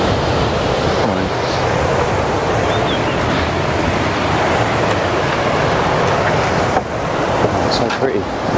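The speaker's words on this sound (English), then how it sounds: "Look at the power of the water jet." A powerful jet of water gushes from the Caban Coch dam in Elan Valley as a steady, loud roaring rush. People talk over it from close by.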